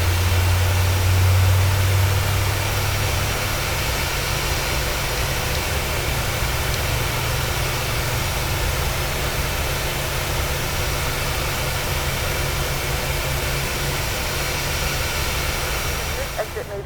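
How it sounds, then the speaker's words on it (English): A PMDG 737 engine spools up in Microsoft Flight Simulator 2020 with a steady, broad jet roar and hiss that stays loud and even throughout, a low hum underneath, and no talking. "So we're going to go ahead and let the engine start up here"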